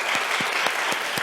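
A church congregation at a Tuesday worship service applauds the worship team and the pianist, a steady, fairly close patter of many hands, with a few louder low thumps recurring at regular intervals underneath.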